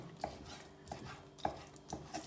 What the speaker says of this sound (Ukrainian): Зараз нарізаю дрібним кубиком